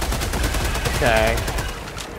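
Rapid gunfire from a weapon in the video game Helldivers 2, a quick close burst of repeated shots over about two seconds with an electric crackle in the middle.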